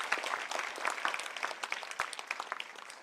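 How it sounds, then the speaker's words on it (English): An audience at a charity organization's event in Bengaluru claps steadily and continuously for the keynote participants, a dense, fairly distant round of applause with no voices on top. "A huge round of applause for the keynote participants."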